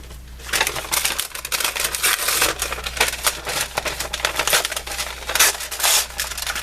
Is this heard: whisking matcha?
no